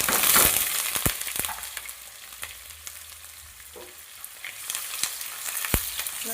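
Chopped onion hitting hot oil in a pan already sweetened with sugar, sizzling steadily at close range, with sharp clicks and scrapes from stirring scattered throughout and no talking.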